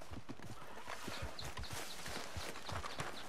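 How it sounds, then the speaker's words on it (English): Horse hooves clip-clopping in Red Dead Redemption 2, a steady run of close, distinct hoof strikes against a busy in-game background, with no talking. "I'll calm down my horse first and then all the other horses too."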